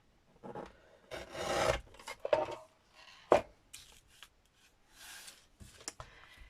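A series of crisp cutting and snipping sounds as card is chopped, irregular bursts with brief pauses, close by and fairly loud, with no talking.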